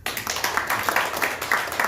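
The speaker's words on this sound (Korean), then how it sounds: "동혁이 우리 격려 박수 해주세요." A church congregation claps in encouragement during a Sunday worship service, a short burst of rhythmic hand claps filling the room, fairly close and moderately loud.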